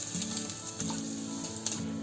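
Finely chopped green chili and ginger sizzle in hot oil in a pan for egg Manchurian, a steady close frying hiss with a low hum running beneath it.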